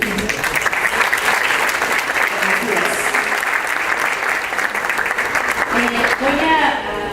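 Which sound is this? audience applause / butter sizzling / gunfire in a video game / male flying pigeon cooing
audience applause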